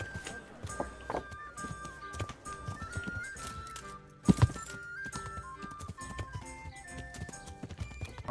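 Horse hooves clip-clop in an uneven walking rhythm over light background music, with a sharp thud partway through, in the video game Kingdom Come: Deliverance.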